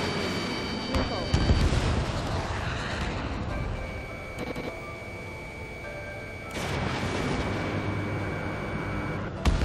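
Missile launches and jet combat in the video game Ace Combat 7, with dense roaring engine and weapon noise throughout, steady warning tones, and a loud burst near the end; voices speak over it.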